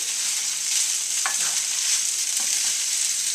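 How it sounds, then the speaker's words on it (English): Bacon, garlic and egg fried rice stirred in a hot pan, with a continuous close sizzle and a few soft scrapes of the utensil against the pan. "And now you want to mix everything together."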